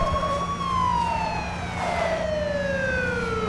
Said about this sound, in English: we're in pursuit of a police car.